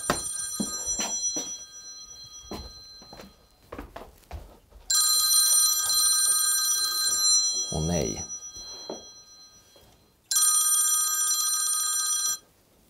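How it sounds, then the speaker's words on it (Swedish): A telephone rings with bright, steady electronic trills in two long bursts. Between the bursts someone talks nearby and there is some handling noise. "nu ringer det igen här"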